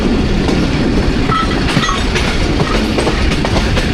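Thall Express passenger train on the Jand to Multan Cantt line, a loud continuous rumble of wheels on the tracks with rhythmic clatter, heard close from on board without talk.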